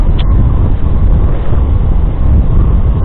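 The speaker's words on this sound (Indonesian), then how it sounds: "Adalah ada angin tapi nggak terlalu dingin itu." Steady, loud wind buffeting a microphone on a night motorbike ride in warm, humid air, a continuous low roar with no pauses and no voices.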